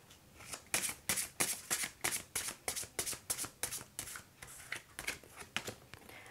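Mystical Wisdom oracle cards are shuffled in a steady run of about twenty crisp, papery riffles, close and fairly quiet, with no talking.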